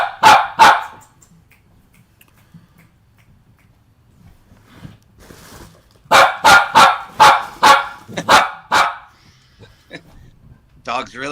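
Dog barking, loud and close: two quick barks, a lull with faint talk, then a fast run of about eight sharp barks in steady rhythm.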